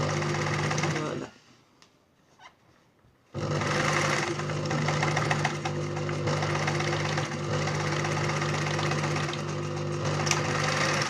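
A sewing machine stitches a jacket hem in a steady mechanical whir. It drops out for about two seconds, then resumes at an even pace and stays close and loud throughout.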